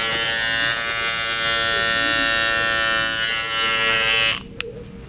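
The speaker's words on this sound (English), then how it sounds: "Another con to these clippers is that I feel like they are too loud." Electric bevel trimmer hair clippers buzz loudly and steadily up close for several seconds, then switch off, leaving a brief quiet click.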